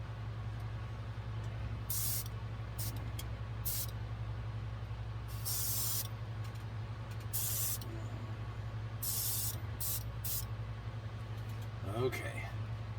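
Spray paint is applied as a thin coat to the front and rear bumpers of a model car, simulating rust. It comes as several short, close hissing bursts over a steady low electrical hum.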